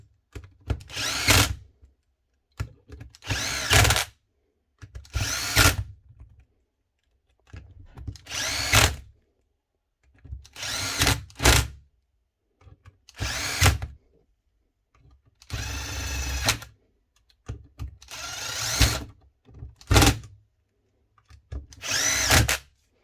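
A power tool drives screws to tighten the AP 360 punch tool back together, nine or ten short, loud whirring bursts spaced by brief pauses.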